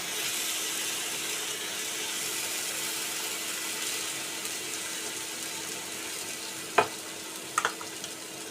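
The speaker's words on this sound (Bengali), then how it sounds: "রসুনটা একটু ভাজা ভাজা হয়ে গেলে আমি এই যে মূলো পাতা বাটাটা অ্যাড করে দেবো" Garlic paste and radish leaf paste frying in a pan, a faint, even sizzle running throughout, with a couple of brief utensil knocks near the end and no talking.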